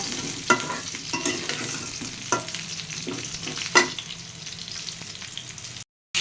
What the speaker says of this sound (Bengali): তেল গরম হয়ে গেছে, এবার আলু পটল একসাথে দিয়ে দিলাম, দিয়ে এটা ভালো করে ভেজে